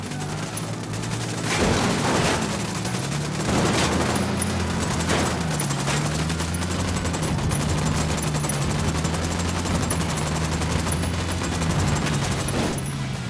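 Sustained automatic gunfire in the Ghost Recon Wildlands video game, with dense overlapping rifle bursts and several sharper shots standing out over a steady low engine-like drone, loud and continuous throughout.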